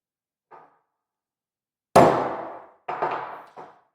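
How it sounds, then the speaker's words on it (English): A cold chisel struck hard with a hammer against a car's carrier bearing: a faint tap, then three sharp metallic blows with short ringing decay, close up and without talk. "pop it real hard, and see if I can get that to crack"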